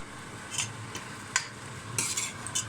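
Meat being stirred into a Thai jungle curry in a pot, with soft scraping and clinking strokes at irregular intervals over a faint low sizzle, close and alone with no talking.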